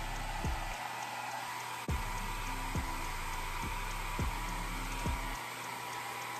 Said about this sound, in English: these are those thermal color shirts that change if you put like a blow dryer to it